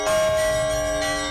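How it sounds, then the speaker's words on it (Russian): Church bells at an Easter bell-ringing festival sound a single sustained, ringing strike with rich lingering overtones, close and clear, with no voices. "Пасхальный фестиваль колокольного звона собрал лучших звонарей."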